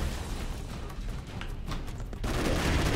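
Rapid gunfire and explosive bursts from the Broforce video game, a dense continuous barrage with a louder blast near the end.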